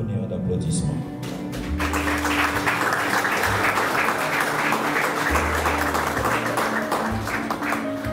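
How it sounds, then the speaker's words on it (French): A crowd at a school inauguration for a new languages and arts pavilion breaks into sustained, dense applause after a brief quieter moment, with some voices mixed into the clapping. "Je vous demande donc pour eux un tonnerre d'applaudissements."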